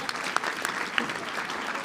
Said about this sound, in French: vous pouvez l'applaudir, Françoise Manteau